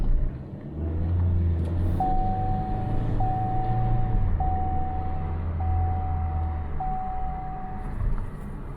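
A 2014 Chevy Sonic with a 1.8L engine, prone to stalling, runs steadily with a low drone, while a repeating electronic chime sounds at regular intervals over the engine noise.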